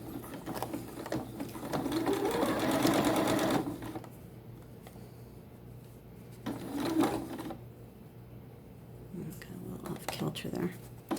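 A sewing machine stitches the stretched leg seams of T-shirt shorts in a close, rapid run of mechanical clatter, followed by quieter gaps and another short burst, with a voice talking throughout.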